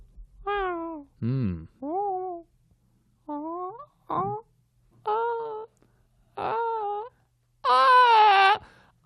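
A voice imitates an infant crying in a cinema, giving eight separate wailing bursts, each a second or less, the last the longest and loudest, with short silences between them.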